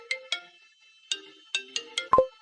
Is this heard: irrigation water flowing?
no